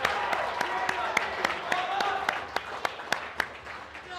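Crowd at a strongman atlas stone event applauding and cheering after a heavy stone lift, steady broadband clapping with sharp individual claps standing out, a loud voice urging on the noise.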